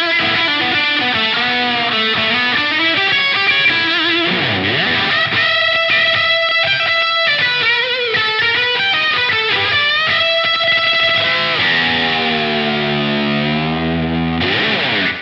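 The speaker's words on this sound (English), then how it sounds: "Got a little slapback on here." An electric guitar plays through a Line 6 DL4 pedal set to a short slapback delay, giving each note a quick single echo, loud and continuous with some distortion and no talk.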